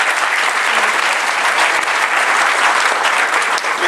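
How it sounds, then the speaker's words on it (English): A crowded hall at a New Hampshire Republican gubernatorial debate breaks into loud, sustained applause, a dense wash of clapping from many hands that holds steady throughout. "We could hold the applause in between."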